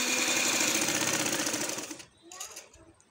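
A sewing machine stitches gum lace onto a kameez, whirring loud and close for about two seconds before stopping, followed by a few faint handling sounds.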